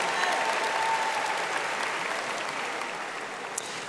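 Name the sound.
graduation audience applause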